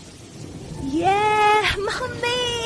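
Steady rain hisses in the background while a voice calls out loudly over it, with people bathing in the rain on a rooftop.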